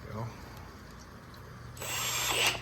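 A power drill with a bigger bit whirs faintly at first, then bores louder and harder from about the midpoint, with a steady low hum beneath.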